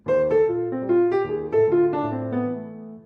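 A short bebop piano run of quick jazzy notes including an out-of-key B natural, played alone and clearly, ending with a held tone that fades.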